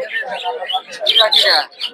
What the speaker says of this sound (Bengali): এখানে এক জোড়া জাভা দেখতে পাচ্ছি।